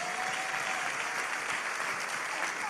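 A church congregation applauds in praise of God, dense sustained clapping from many hands filling the room for the whole stretch.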